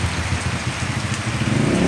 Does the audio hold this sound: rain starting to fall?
yes